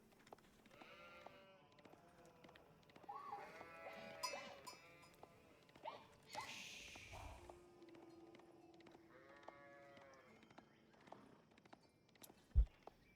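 Sheep herded by a scout in the real-time strategy game Age of Empires IV bleat repeatedly, with overlapping calls from several animals over soft clip-clopping hooves and faint game ambience, ending with a sharp click.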